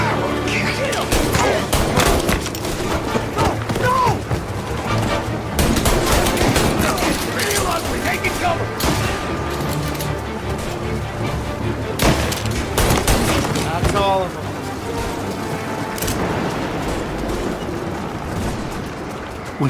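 Gunfire in a combat scene from the video game Mafia Definitive Edition: bursts of rapid shots and booming blasts, loud and close, with shouted voices in the mix.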